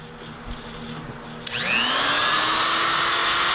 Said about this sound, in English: got one of those little electric cutoff tools here